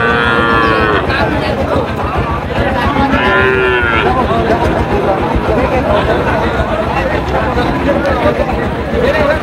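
A large-framed cow moos loudly several times at a crowded cattle market, the long calls rising over a dense babble of many voices and steady crowd noise.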